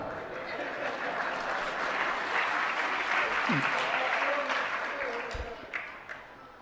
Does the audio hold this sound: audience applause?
yes